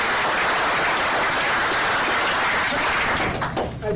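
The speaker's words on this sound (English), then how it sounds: "Can we give Tyler and Laura a round of applause for cooking together?" Applause from a support group meeting audience fills the room as a loud, dense, rain-like patter of many hands that thins slightly toward the end.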